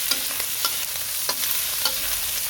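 Tomato stir-fried in a pan gives a continuous close frying hiss, punctuated every half second or so by light scraping stirs of a utensil.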